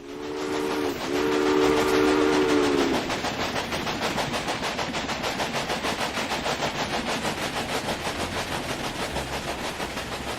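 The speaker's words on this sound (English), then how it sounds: "Your train is now traveling between Omaha and Norfolk." Steam locomotive running on track in the railway management game Railway Empire, heading between Omaha and Norfolk: a steady, loud rhythmic chugging and rattle throughout, opening with a drawn-out whistle tone for the first few seconds.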